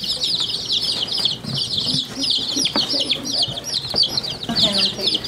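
Polish bantam chicks and chickens cluck and cheep in quick repeated bursts close by, with a few wing flutters and soft background movement throughout.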